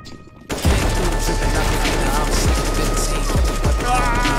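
Loud, continuous gunfire from a video game played on a budget gaming PC with a GTX 1650 and Ryzen 3 3200G, bursting in after a moment of near silence with repeated heavy thumps under the rapid shots.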